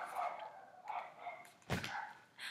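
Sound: dogs barking

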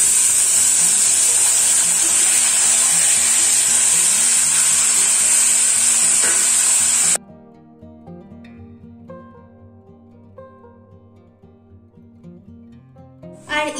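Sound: chicken added to fried onions, sizzling in pan

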